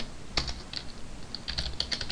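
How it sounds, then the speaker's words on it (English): Keys tapped on a computer keyboard in a quick irregular burst of light clicks, close and fairly quiet, with no talk. "Let me type it right."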